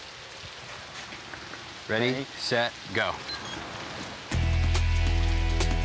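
Heavy rain falls as a steady hiss beneath a voice speaking briefly, then a loud burst of music takes over near the end.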